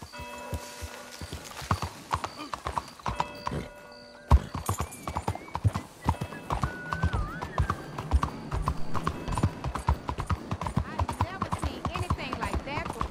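Rapid, steady hoofbeats clip-clop over hard ground in the video game Red Dead Redemption II, with a horse whinnying partway through and a voice speaking over the galloping rhythm.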